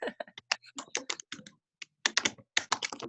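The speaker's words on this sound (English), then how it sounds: "Kelly Riley, clicking away on your keyboard." Clicking on a computer keyboard during a team video call: quick, close, uneven bursts of key taps with short pauses between them.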